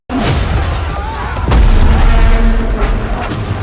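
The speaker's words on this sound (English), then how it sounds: "a large explosion occurred, and during the explosion the sound of steel groaning can be heard." Large explosion in the Battlefield 2042 reveal trailer, a sharp loud boom followed by a second heavy blast with rumbling debris and metallic groaning tones.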